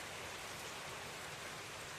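Steady rain falls in a sudden downpour, a dense even hiss of drops on surfaces continuing without a break, close and moderately loud, with no voices.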